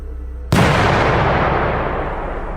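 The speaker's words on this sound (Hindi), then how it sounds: "अंदर से जोर के धमाके की आवाज आई" A single loud, sharp bang erupts after a moment of near silence, then its heavy rumble lingers and decays slowly.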